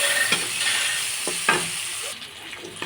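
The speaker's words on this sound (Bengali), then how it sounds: "পেঁয়াজটা একটু হালকা লাল লাল করে ভেজে নেব।" Chopped onion sizzles steadily in hot oil in a pan, with a few stirring scrapes of a spoon across the pan, close up with no talking.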